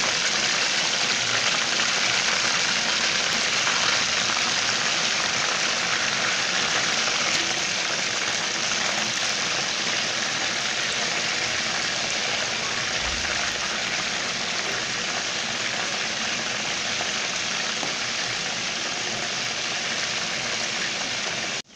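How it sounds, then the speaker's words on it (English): Yam pieces frying in palm oil with a splash of water added, giving a steady, dense hiss of sizzling and crackling that holds evenly throughout without any talk. "my yam is still frying"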